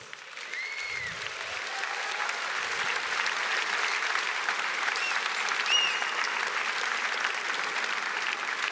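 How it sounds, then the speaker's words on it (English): A large convention audience breaks into sustained applause that swells and holds steady, dense clapping with a few faint whistles above it. "Let's give Buzz and Sarah another big round of applause."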